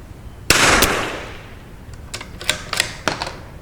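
Tikka rifle fired at a target outdoors, one sharp loud crack with a short decaying tail, followed by a scatter of fainter clicks and taps.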